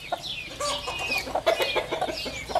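Backyard coop of young laying hens clucking and cackling nearby, with overlapping calls and short bright squawks repeating throughout, no talking.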